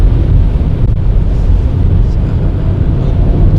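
Loud, steady low rumbling roar of wind buffeting around a Lexus NX300h at high speed, heard from inside, constant and unbroken throughout.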